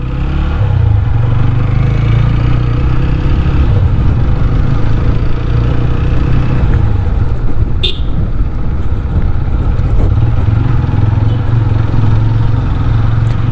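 A TVS Apache RTR 160 4V motorcycle rides along a road, its steady engine drone and wind rumble continuous and loud throughout, with a brief high chirp near the middle.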